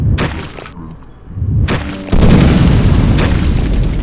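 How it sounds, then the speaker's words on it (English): Triple skulls exploding in the video game Clive Barker's Undying: two loud booming blasts, one near the start and a heavier one about halfway, followed by a rumbling tail. "Oh god, they're gonna explode!"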